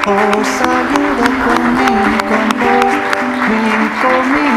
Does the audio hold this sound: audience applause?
yes